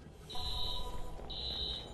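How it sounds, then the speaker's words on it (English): An electronic alarm trips in the video game Watch Dogs, sounding two sustained high beeping tones over low background noise. "Alarm's been tripped."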